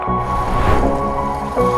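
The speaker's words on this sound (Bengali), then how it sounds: "প্রচুর বাতাস এবং স্রোত নৌকা দোলাদুলিও প্রচুর" Water sloshing and lapping against a boat hull as the boat rocks on choppy water in strong wind and current, with a low engine-like rumble, steady and close, no voices.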